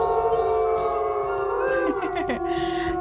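Wolf howling in the WolfQuest video game, a long sustained howl with sliding wavering pitch, several voices layered and rising together, loud and close, with no other sound.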